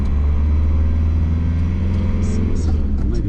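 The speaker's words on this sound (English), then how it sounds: "when I set off now, you'll, I think, probably hear all the mud flying off" A muddy car pulling away on a northbound winter drive, its engine rumbling low and steady up close while tyres churn underneath, with faint light clicks and patters toward the end.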